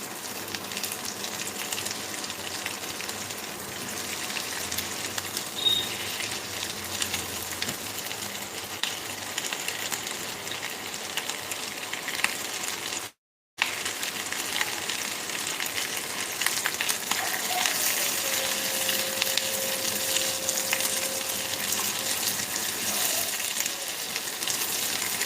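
Onion with green, yellow and red capsicum fry in a pan, a continuous close crackling sizzle with occasional stirring, steady for about twenty-five seconds, broken by a brief cut midway, with no talking.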